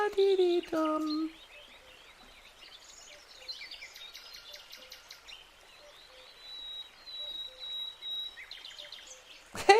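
Small birds chirp and trill outdoors, faint and somewhat distant, with a long high whistled note among the calls; brief louder sounds open and close the scene.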